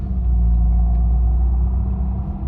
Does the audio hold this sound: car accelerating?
yes